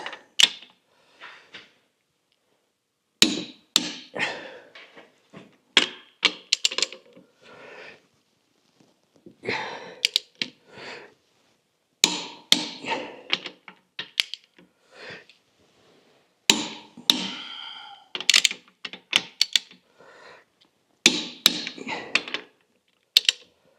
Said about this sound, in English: So I'm just torquing these to 80 for now.